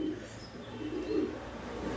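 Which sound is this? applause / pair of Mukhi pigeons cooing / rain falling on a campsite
pair of Mukhi pigeons cooing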